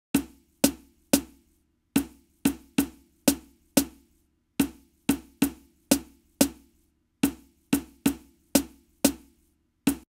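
A snare drum joins a shaker and conga in a Logic Pro X zouk, kizomba and afrobeats beat, sharp regular hits in grouped patterns repeating steadily and up close with no voices.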